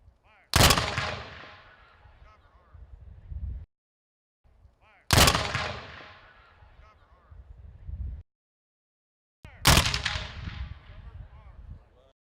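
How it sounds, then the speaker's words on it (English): Three loud rifle volleys ring out, each a sharp crack followed by a long echoing decay, separated by brief pauses, fired as a 21-gun salute at an outdoor ceremony honoring fallen veterans. "a closing ceremony which included a 21-gun salute for all of America's fallen veterans"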